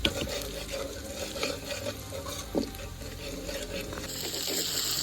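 Onions with salt sautéing in a pan over a wood-fired stove on a terrace: a continuous close sizzle with stirring scrapes and a brighter hiss rising near the end, no voices.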